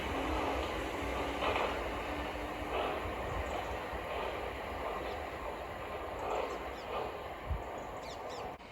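A Southern class 455 electric multiple unit pulls into Sydenham station, a steady broadband rumble of wheels and motors holding level across the platform with faint clatter and no one speaking.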